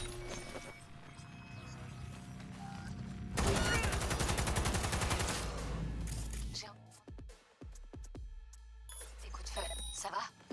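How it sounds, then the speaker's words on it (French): Gunfire in the Cyberpunk video game: bursts of rapid automatic fire with a dense stretch of sustained shooting in the middle, followed by scattered single shots and impacts, while a player talks over parts of it. "Des coups de feu"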